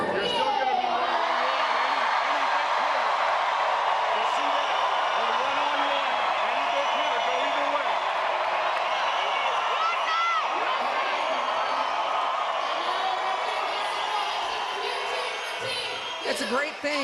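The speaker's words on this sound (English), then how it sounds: "the crowd is so loud that we can't creep in on the timeouts" An arena crowd roars continuously during a timeout at a women's VNL 2024 volleyball match between the USA and Türkiye, a loud, dense wall of cheering and shouting that barely lets up.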